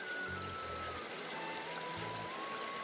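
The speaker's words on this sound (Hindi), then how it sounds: "नदी की हल्की हल्की बहने की आवाज़" A gentle river flows steadily nearby with a soft, continuous wash of water and light trickling, quiet and even throughout, with faint low rumbles underneath.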